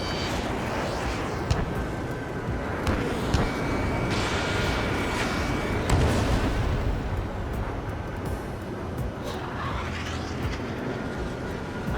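Missiles firing and exploding during an air battle in the Ace Combat 7 video game, heard as a steady, heavy roar with deep booms and rushing swells, and no talking.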